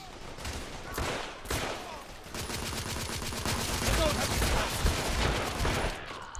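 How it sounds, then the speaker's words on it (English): Shotgun blind fire in the video game The Order 1886 sounds as a few sharp blasts followed by a dense crackle of gunfire, a mid-level battle mix with a voice faintly underneath. "Blind fire with shotgun."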